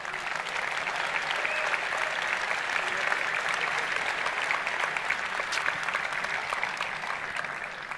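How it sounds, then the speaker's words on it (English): An audience applauds cosplayers at a convention with sustained, dense clapping that holds steady and fairly loud for the full stretch, with no pause. "please give a round of applause for everyone who made the effort"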